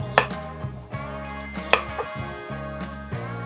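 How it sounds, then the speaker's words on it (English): A knife slices an onion into thin half-moon rings on a cutting board, a run of crisp, evenly spaced chops close up with no talking. "Okay, the first one we need to cut is that onion. We need to go ahead and just make half moon rings."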